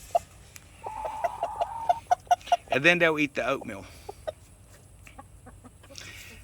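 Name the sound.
rooster clucking to call hens to worms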